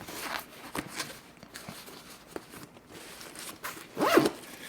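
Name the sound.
zipper on a bag being opened or closed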